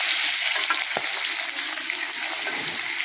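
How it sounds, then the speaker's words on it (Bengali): A fish sizzles in hot oil in a home kitchen pan, a loud continuous crackling hiss close up with a brief clank near the start, no talking over it. "মাছটাকে এখন ভাজা রাখতেছি"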